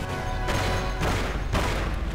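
Gunfire in Mafia: The City of Lost Heaven, loud game shots that crack out in a regular rhythm roughly every half second over a constant engine rumble.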